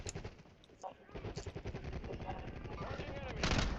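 Rapid video-game gunfire rattles in bursts, with automatic weapon fire close by and a louder volley near the end.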